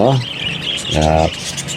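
A bird gives two short chirping calls, one brief at the start and a longer harmonic call in the middle, close by and clear over a steady background hiss, with a faint voice underneath.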